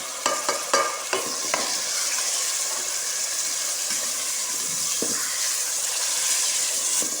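Tomatoes go into sizzling masala for a potato, pea and carrot mixed vegetable sabzi, with a few quick clatters at the start, then a steady, close frying hiss while the pan is stirred.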